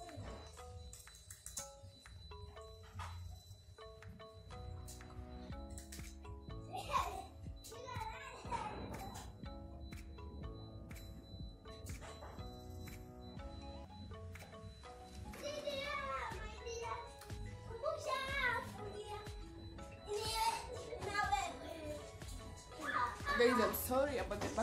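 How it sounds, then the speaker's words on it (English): Children playing in the background, their voices and shouts scattered throughout, faint and distant behind a mix of other household noise. "Those are just kids playing."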